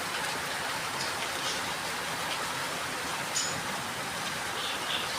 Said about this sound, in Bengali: এই ঝিমঝিম ঝিমঝিম বৃষ্টি পড়ছে